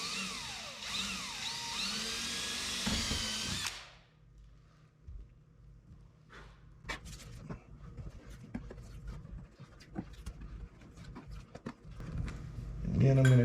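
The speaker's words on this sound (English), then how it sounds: "just light, easy pressure, and be aware when your drill is going to break through" A power drill bores through the fibreglass body of an FFR MkIV roadster kit car, a loud, high whining burst that cuts off abruptly, followed by quieter scraping, clicks and handling noises with occasional speech.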